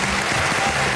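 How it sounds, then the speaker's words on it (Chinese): A live studio audience claps on cue at a televised memory-skills show, producing a dense, even burst of applause that fills the moment with no voices over it. "掌声不断"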